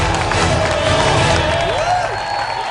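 A studio audience on a cooking competition show applauds and cheers loudly for the winning red team, a dense steady roar of clapping and shouting that fills the whole stretch, with a whistle-like tone briefly rising above the crowd.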